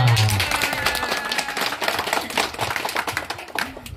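Children at an elementary school event clap together in a quick, dense patter of many small hands, loud and close, continuing steadily for a few seconds without talk.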